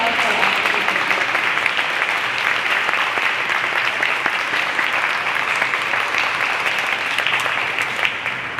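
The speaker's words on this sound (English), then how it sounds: "So special applause for" Sustained applause from the crowd at a school's end-of-year honor roll assembly, dense steady clapping that holds at even loudness for the whole stretch before tapering slightly at the end.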